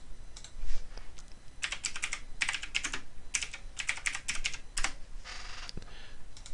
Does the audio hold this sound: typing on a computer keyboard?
yes